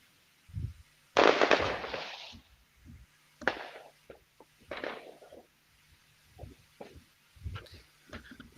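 Fireworks going off in the distance, with a burst of crackling pops followed by scattered lighter bangs and thumps spread irregularly over several seconds, fairly faint and with no voices.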